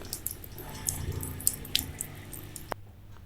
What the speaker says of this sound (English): Water is leaking.